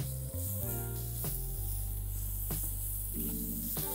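A whole bunch of chopped green garlic sizzles in hot tempering oil, a continuous bright hiss that stays close and even under steady background music.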